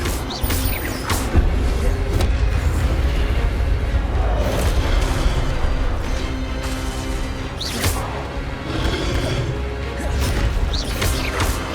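An Incendio fire spell cast in the game Hogwarts Legacy, heard as loud, crashing bursts and booming whooshes over a dense, constant rumble of game audio, with sharp impacts recurring across the passage.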